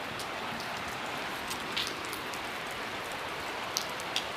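Heavy daytime rain falls steadily in Assam, a constant dense hiss of drops on surfaces with a few louder splashes nearby, and no voices.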